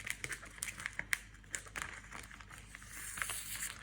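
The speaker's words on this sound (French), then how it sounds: "je prends mon ciseau, je coupe à la bonne longueur." Scissors cut plastic book-cover film to length while a soft school book is being covered, a quiet run of crinkling snips and rustles close by, with no talk.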